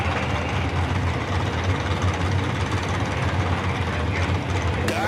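A Dodge-powered 1957 Chevrolet drag car sits at a drag strip with its engine running steadily in a low, rumbling idle, a continuous loud drone with no talking.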